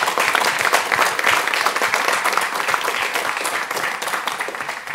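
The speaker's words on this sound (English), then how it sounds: "if we please have a big round of applause for everyone who helped out today." An audience at a challenge showcase event breaks into sustained applause, a dense, steady wash of many hands clapping throughout.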